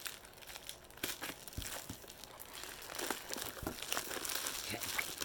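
Scissors snipping and crinkling through mail packaging, a close series of crisp rustles and cuts that grow busier toward the end, with a faint voice in the background.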